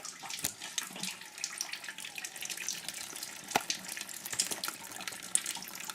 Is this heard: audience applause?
no